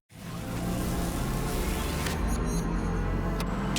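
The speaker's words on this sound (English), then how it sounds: "That is the sound of BMW performance without a single piston or cylinder." BMW iX all-electric car driving by, a steady broadband rush of tyre and road noise with a faint electric whine, close and fairly constant, no engine pulses.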